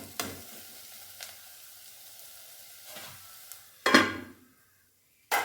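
Bitter gourd sautés in a pan, a faint background sizzle punctuated by a few sharp stirring scrapes and one louder clatter near the end.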